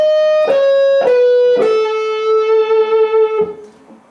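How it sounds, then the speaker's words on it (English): Lydian mode scale on a clean, ringing guitar: four picked notes descending in steps, the third held long with a slight waver, then a final note as the sound trails off, near and unaccompanied. "It's a scale called Lydian mode,"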